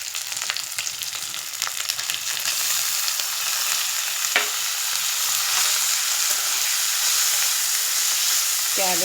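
Boiled cabbage stir-fries with moong dal in a pan, giving a loud, continuous close-up sizzle and hiss, with a few sharp taps from the stirring utensil and no talking.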